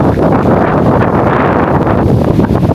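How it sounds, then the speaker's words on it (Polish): Strong wind roars steadily into the microphone, a loud continuous buffeting rumble with no pauses and no voices. "tylko zademonstruję, nie? jak jest wiatr."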